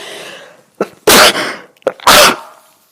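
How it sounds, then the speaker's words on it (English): Two sharp sneezes about a second apart, each preceded by a quick inhale, loud and close with quiet between. "I'm just going to sneeze."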